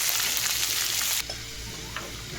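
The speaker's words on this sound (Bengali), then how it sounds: "এবার পেঁয়াজ আর আলু একসঙ্গে দিয়ে দিচ্ছি" Onion and potato frying together in hot oil after the spices are tempered, a steady bright sizzle that drops abruptly to a softer crackle partway through, close and alone with no talk.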